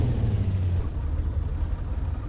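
Low truck engine rumble from a FSC Star 200 mod truck in Euro Truck Simulator 2, briefly humming higher while revving between gears before settling into a steady, fairly quiet drone.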